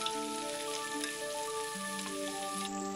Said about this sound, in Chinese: 青椒煸炒至表皮起皱呈虎皮状，再放入煸炒好的五花肉